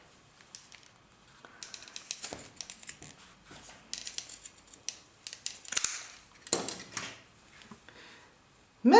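Scissors snipping through yarn fringe to shape a pompom, a series of short crisp cuts and rustles at close range with pauses between, no talking.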